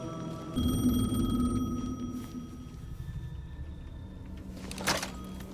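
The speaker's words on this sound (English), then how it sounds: "The payphone was ringing." A payphone ringing in the horror video game Alan Wake 2, a sustained electronic ring with steady tones over a low ambient drone, fading and then briefly flaring near the end.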